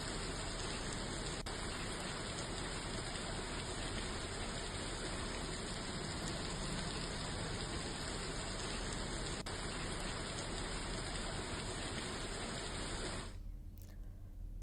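Heavy monsoon rain in Dantewada, Chhattisgarh, a dense, steady hiss of downpour that stays loud and unbroken for most of the clip before cutting off abruptly near the end.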